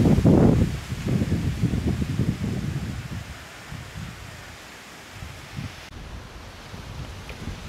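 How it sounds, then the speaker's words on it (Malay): Strong wind blows across a beach, buffeting the microphone in loud low rumbling gusts that ease off after a few seconds into a steadier, softer rush. "Angin kuat, angin kuat."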